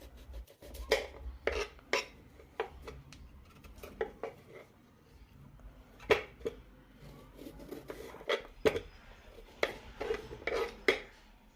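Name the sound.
cutting elephant foot yam into small pieces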